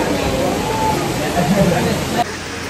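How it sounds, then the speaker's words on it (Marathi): Cavern Cascade waterfall at Watkins Glen roaring as a dense, loud, continuous rush of falling water close at hand, with voices murmuring beneath the steady wash. "वॉटरफॉल आलाय पुढे."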